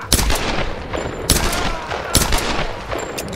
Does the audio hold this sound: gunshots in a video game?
yes